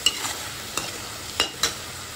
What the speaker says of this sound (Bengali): সমস্ত উপকরণ দিয়ে ভালোভাবে আবারও নাড়িয়ে নিচ্ছি।